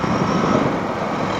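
Honda CRF 450RL engine droning steadily at cruising speed, a loud, even buzz mixed with dense wind rush, close and constant with no talking.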